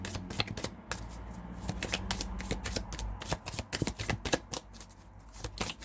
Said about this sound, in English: let's get a card from the Starseed Oracle